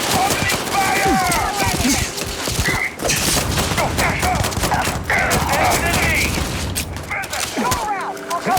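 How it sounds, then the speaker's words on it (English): Gunfire in a video game, a rapid fusillade of loud, close shots running almost continuously, with shouted voices and horse-like whinnies and hoofbeats mixed in, plus a few heavier booms. "Opening fire!"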